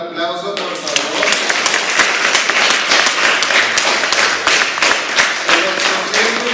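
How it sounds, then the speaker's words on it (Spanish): An audience at a children's book presentation bursts into applause for the young author Gamaliel Valle Verdugo, loud, close clapping that swells quickly and holds steady, with voices faintly heard at the start and end. "dándole un aplauso por favor"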